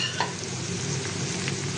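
Cut pumpkin pieces dropped into onions frying to light brown in a pan, a steady close sizzle with a faint clink of stirring, no voices.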